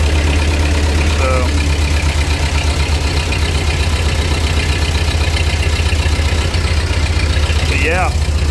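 A Ford 8N tractor engine idles steadily with a deep, even low rumble, close and loud throughout, with brief sounds rising over it.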